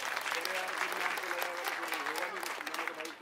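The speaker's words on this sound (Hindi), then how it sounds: "मैं चाहूंगा हमारे कार्यकर्ताओं के लिए एक बार जोरदार ताली आप लोग" Audience applause at a Delhi election political rally in Nangloi Jat, honoring party workers: a dense, sustained wash of clapping from a large crowd, steady and loud throughout, with crowd voices mixed in beneath.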